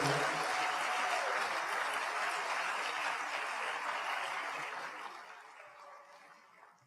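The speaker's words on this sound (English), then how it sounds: "I want a large round of applause for Alex Leon" A large round of applause from the audience at a college athletic hall of fame ceremony for the sports information director, sustained dense clapping heard alone that gradually fades out over the final seconds.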